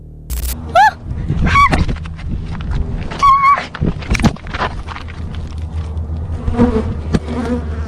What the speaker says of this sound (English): Suddenly, a massive swarm of bees surged toward her, swarming like a storm.